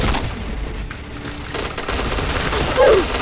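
Dense, loud gunfire from an XM2010 rifle in a PUBG-style online shooter, a continuous sharp barrage that fills the short stretch with no pauses.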